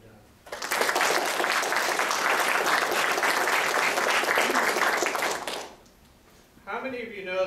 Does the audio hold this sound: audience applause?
yes